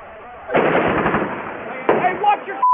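Gunfire from Iraq war combat footage in Fallujah, involving Marines, comes as bursts of rapid shots and sharp cracks with a couple of loud onsets. The bursts are close and harsh, and a shouted voice can be heard among them.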